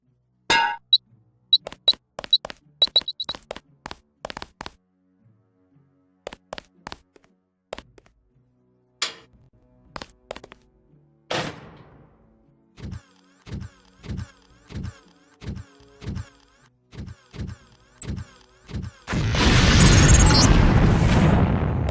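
In the Deus Ex video game, a LAM explosive is placed and then detonates. Scattered metallic clanks and clicks give way to a steady run of regular beeps, then a loud, rumbling blast closes the sequence.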